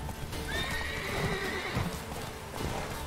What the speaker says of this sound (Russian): Только лошадь не трогай, Геральт